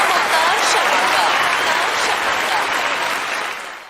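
An audience applauds steadily to welcome a speaker, a dense, loud wash of clapping that carries throughout before easing off slightly at the end.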